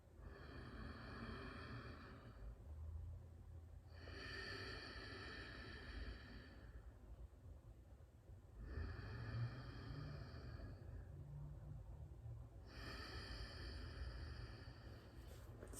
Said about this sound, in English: we'll breathe in and out